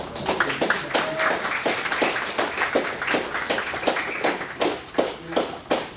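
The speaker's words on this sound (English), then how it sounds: "Give yourself a big round of applause, first of all" Applause fills a hall at a young men's event honoring engineers: many hands clapping in a dense, steady patter, fairly close, with a few sharper claps standing out toward the end.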